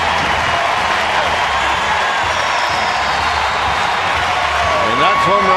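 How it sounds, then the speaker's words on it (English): A large stadium crowd roars steadily after a home run at a baseball game, a loud continuous wash of cheering that swells slightly at the end, with a commentator talking over it. "the crowd is going to love this"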